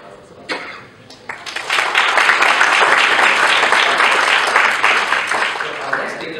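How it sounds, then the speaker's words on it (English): At a conference hall, quiet room sound gives way to scattered claps that quickly swell into full, steady audience applause, staying loud for several seconds before slightly fading. "he deserves an applause as well."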